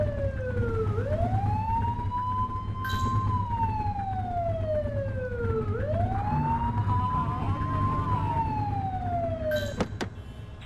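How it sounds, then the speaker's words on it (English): A police car siren in the video game The Precinct wails in two rising and falling sweeps over a steady engine hum, loud and close, ending with a sharp blip. "Get on their tail and blip the siren."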